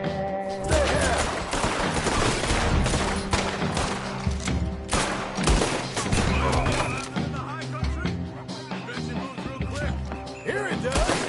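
Sustained, dense gunfire from the video game Red Dead Redemption 2 rattles continuously for over ten seconds, with repeated loud cracks and booms layered over a rumbling game background.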